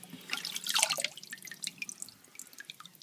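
Water drips and patters off a TI-84 calculator coated in Rust-Oleum NeverWet, a brief burst of splashing droplets followed by scattered, lighter drips close by.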